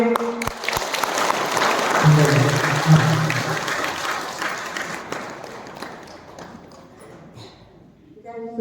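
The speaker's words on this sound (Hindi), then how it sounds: "तो हम जोरदार प्रभु को तालियां मारेंगे।" A church congregation in Barwadih, Simdega, Jharkhand applauds loudly and steadily, the clapping fading gradually toward the end before a voice begins speaking.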